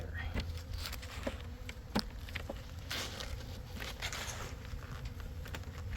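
Honeybees buzz continuously close by during a package installation, a soft swarming hum with faint scattered taps and rustles underneath.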